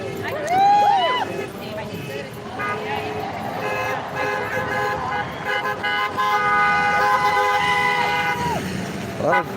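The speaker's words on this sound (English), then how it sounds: "A lot of trucks." Road traffic with trucks rolls by on a California highway, a steady drone broken by short horn toots, while people talk over it.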